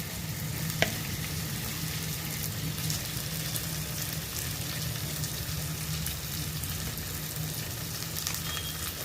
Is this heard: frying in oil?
yes